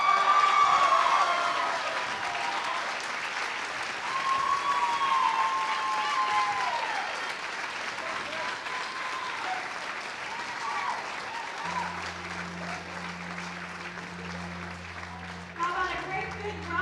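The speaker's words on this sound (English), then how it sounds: "How about a great big round of applause for the athletes that will represent the USA in international competition." Sustained applause from an audience at a U.S. amateur bowling stepladder finals, a steady wash of clapping that carries on at even strength, with a voice over the crowd and a brief tonal sound near the end.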